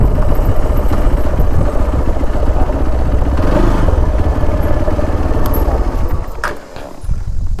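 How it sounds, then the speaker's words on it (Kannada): A motorcycle on a hilly route near Hosahalli viewpoint runs with a loud, close, rumbling engine and clattering, steady throughout with a brief dip near the end, no speech. "ನಾ ಬೈಕ್ ತಗೊಂಡ"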